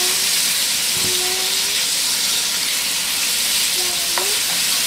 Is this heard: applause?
no